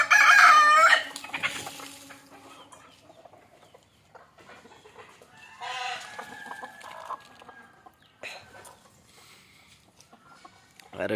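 Native country chickens in a village coop, a rooster crowing loudly and close at the start, then scattered clucking and softer calls from the flock, with no talking.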